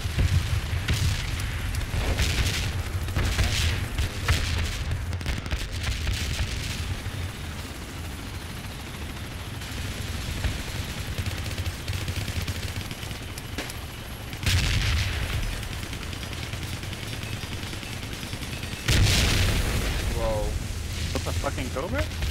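Grenade explosions and gunfire in the military shooter Project Reality, heavy booms and rumbling blasts recurring throughout with bursts of shots, loud and close, while players talk over the combat.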